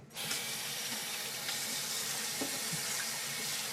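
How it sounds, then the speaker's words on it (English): Running tap water splashing steadily at a sink as an aquarium algae scrubber screen thick with green algae is rinsed off, a continuous close, fairly loud wash heard alone. "Now rinsing off the screen."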